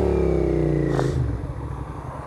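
A 250cc motorcycle engine revs briefly, with a quick throttle blip rising and falling before settling back to a steady idle rumble, close and fairly loud.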